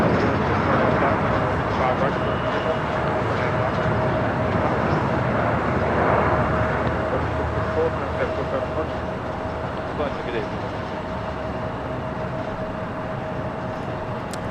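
Porter Airlines Embraer E195-E2 jet on its takeoff roll at Los Angeles LAX, a steady broadband engine roar with a thin whine held throughout, loud and sustained from a moderate distance.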